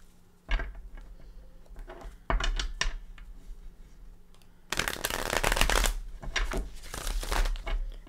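A Cosmic Tarot card deck being shuffled close up: a few short riffling bursts, then a longer, louder continuous shuffle, crisp and dry with no talking.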